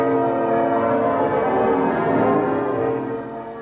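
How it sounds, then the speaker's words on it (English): A peal of church bells at York Minster, a full, ringing wash of overlapping tones sustained loudly throughout before easing slightly at the end, with no voices. "A peal of bells at York Minster"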